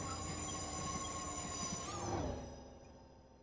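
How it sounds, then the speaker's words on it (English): A freight train passes in Train Simulator Classic with a steady rumble and a high wheel squeal, then fades and drops away over the last second as the wagons move off. "Watch the train go by and we'll flip through anyway."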